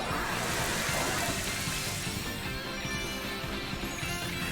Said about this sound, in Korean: 비가 내리고